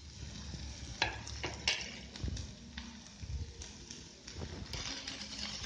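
Onion, tomato and green chilli fry in a pan with a steady soft sizzle, broken by a few sharp scraping stirs, close and moderately quiet with no talking.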